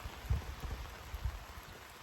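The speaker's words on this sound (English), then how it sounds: "The rain is starting to pick up a little bit." Steady rain hisses softly across the whole clip, with faint low thuds of drops landing nearby and no voices.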